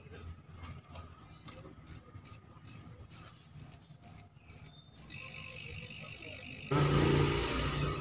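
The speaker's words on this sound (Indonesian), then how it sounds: "Display-nya berkedip dan ada suara bunyi seperti suara jangkrik." With its casing removed and display flickering, a Panasonic Quintrix F series TV gives off a rapid, evenly spaced, cricket-like chirping for several seconds, followed by a steady electronic hiss that grows louder toward the end.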